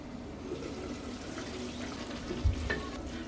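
Meat sizzles and fries in a pot, stirred with soft scraping and an occasional clunk, steady and fairly quiet at close range with no voices.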